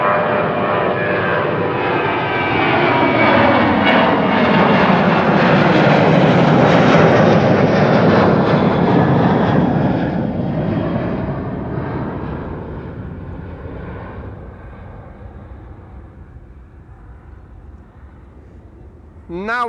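A Transavia airliner departs Schiphol Airport, its loud jet roar swelling over the first ten seconds, then slowly fading into the distance as it climbs away.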